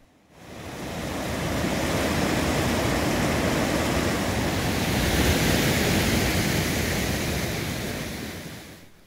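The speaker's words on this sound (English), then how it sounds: "we could clearly hear bigger water ahead" Rapids on the White River in Ontario roar steadily ahead, a dense, continuous rush of churning water that swells in and holds at full strength throughout.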